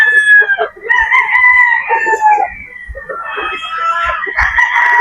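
Boston Black chickens at a poultry farm, a rooster crowing loudly and repeatedly close by while hens cluck in short bursts between the calls.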